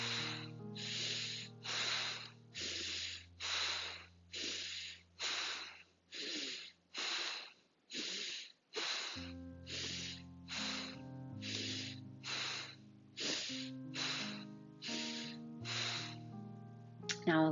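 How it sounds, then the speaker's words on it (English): Forceful bellows breathing in a yoga practice: around twenty quick, sharp inhale-exhale puffs in a steady pumping rhythm, close and loud, over soft sustained background music. "we'll do our bellows breath again. So forceful inhales and exhales"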